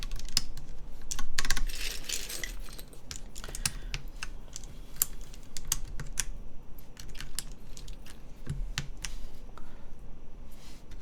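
Typing on a mechanical keyboard with MX Brown switches in a polycarbonate-case build: close, continuous bursts of tactile key clacks at an uneven, brisk rhythm, with no voices.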